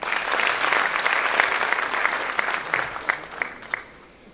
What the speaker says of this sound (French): j'aimerais qu'on applaudisse s'il vous plaît.